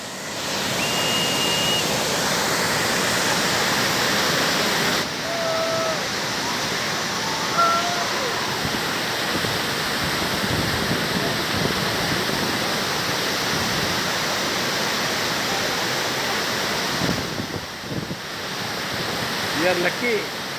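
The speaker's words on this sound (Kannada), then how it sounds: "ಧುಮ್ಮಿಕೆ ಹರಿಯುವ ನೀರು ನೋಡೋದೇ ಒಂದು ಸುಂದರ." Water roaring from the opened gates of the Hemavathi dam, a loud, continuous rushing wash that holds steady throughout with small surges, no talk over it.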